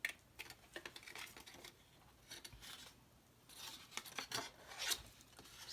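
Scissors cut through backpack fabric in faint, close snips and rasping strokes, bunched into irregular runs and growing a little louder near the end, with no voice.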